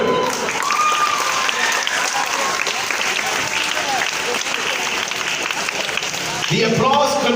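A crowd at a stage magic show applauds loudly and continuously as a volunteer walks up on stage, with voices talking over the steady clapping throughout.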